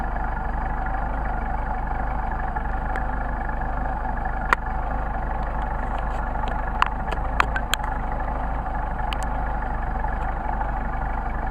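Steady engine idle with the Solex carburetor running on its first barrel only, a continuous low rumble lasting throughout, with a few faint clicks and ticks breaking through near the end.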